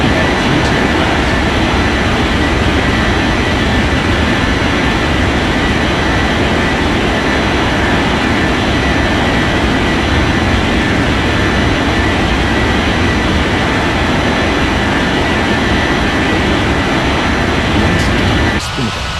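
Jet airliners rolling and climbing out from runway 32 left at a busy airport tower in an air traffic control game, a steady loud engine roar sustained throughout with radio chatter mixed in.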